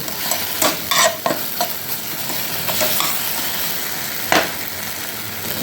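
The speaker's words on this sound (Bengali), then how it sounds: "মশলাটা ভেজে এসছে খুব সুন্দর একটি সেন্ট বেরিয়েছে" Spice paste frying in a pan for a Rupchand pomfret curry, a continuous sizzle with bursts of scraping and stirring against the metal, close and fairly loud, without speech.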